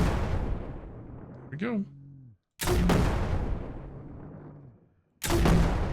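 Grenades go off in the video game SurrounDead: two sharp, loud blasts, each trailing off in a long rumbling decay, with a short remark and a sigh heard before them.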